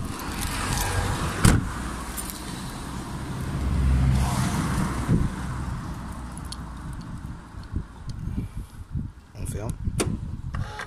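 Peugeot central locking worked by remote, locking and then unlocking again, with brief mechanical clunks set against a car's steady ambient hum while someone speaks over it.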